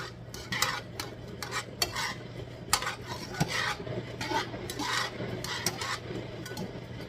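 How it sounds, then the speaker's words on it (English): Vegetables going into a reduced sauce in a pan for shrimp and grits, close spoon or utensil scraping and stirring in a steady rhythm against the pan over a faint sizzle, with no talking. "Now we're gonna add the vegetables."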